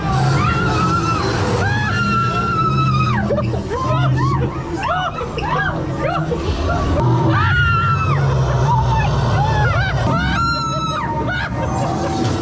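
A woman screams again and again inside a Ghostbusters Frozen Empire themed Halloween haunted house, sharp high shrieks over loud crowd babble, bangs and effects in a noisy, busy space.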